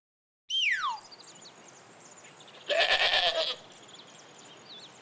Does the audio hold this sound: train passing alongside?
no